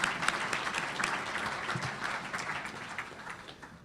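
Audience applause at a county State of the County address, steady dense clapping from a crowd that holds through the whole stretch without speech.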